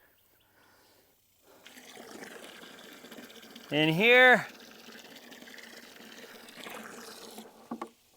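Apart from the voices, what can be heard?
water running from a hose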